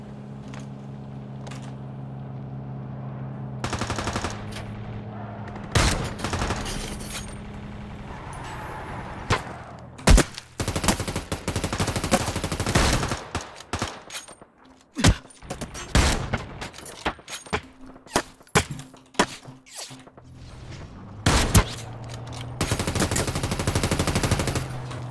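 Gunfire in the battle royale game Ring of Elysium, bursts of automatic shots and single cracks scattered through the clip, mixed with vehicle engine hum and game sounds.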